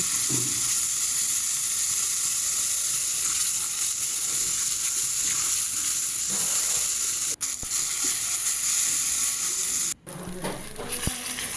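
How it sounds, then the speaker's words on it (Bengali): Spice paste with coriander, salt and turmeric frying in a pan for a Bengali pangas fish curry: a steady, loud hissing sizzle throughout, broken by two brief sharp knocks near the end. "এবার ভালো করে মশলাটাকে কষে নেব"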